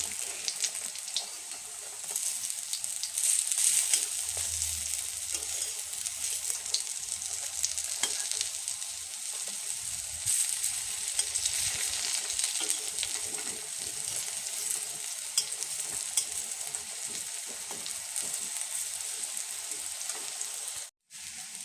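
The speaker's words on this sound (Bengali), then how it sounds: "বড়াগুলি আমার হয়ে গেছে, লাল লাল করে ভেজে নিয়েছি" Lentil fritters, Bengali dal bora, deep frying in hot oil until reddish brown: a dense, continuous hissing crackle like heavy rain, steady and close throughout, ending with a brief clatter.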